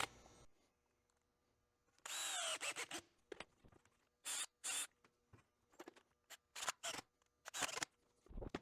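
In a production shop, a power drill pre-drills the corners of cornhole board frames in several short, loud bursts of whirring, separated by near-silent gaps.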